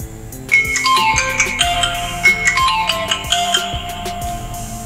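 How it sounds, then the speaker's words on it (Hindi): An Android phone plays a loud, melodic ringtone set off remotely as it lies beside a laptop, the tune ringing on alone with no talk. "आपके फोन के अंदर ऑटोमेटिक रिंग बजना शुरू हो जाएगी"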